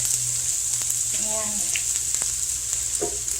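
Day-old cooked rice frying in a pan with garlic and ginger, giving off a steady, bright, close sizzle throughout, with a short tonal clink partway through and a voice speaking briefly over the hiss.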